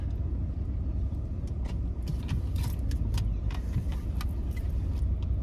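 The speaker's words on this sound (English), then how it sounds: "Trying to park this big truck." Big truck engine idling and creeping while parking, a steady low rumble with faint clinks and rattles on top, close and continuous with no talk.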